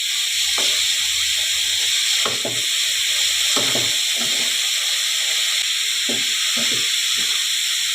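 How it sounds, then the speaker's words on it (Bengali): Carrot halwa being stirred in a pan just after sugar goes in, with soft scraping strokes at an uneven rhythm over a steady background hiss of cooking, close by and with no talking. "এইভাবে একটু নেড়ে নেড়ে"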